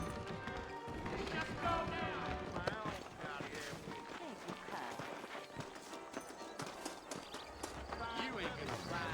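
Steady clip-clop of horse hooves at a walking pace in the video game Red Dead Redemption, mixed with busy background sound and voices talking over it.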